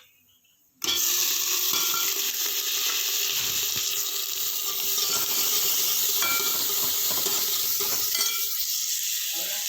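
Cumin, bay leaf, onion, green chili, garlic and ginger crackle and sizzle steadily in hot oil after a brief quiet start, with occasional clinks and stirring noises over the continuous frying hiss.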